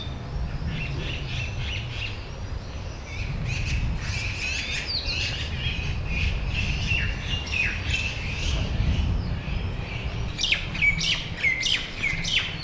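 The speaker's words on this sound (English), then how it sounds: "Just take a moment and just listen to the birds." Birds chirp and call steadily outdoors in Uzbekistan, several bright tweets overlapping against a low rumble of background noise, with a denser burst of calls near the end.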